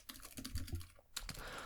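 Keystrokes on a computer keyboard tapping out a quick burst of clicks, close and moderately loud, with no voice over them.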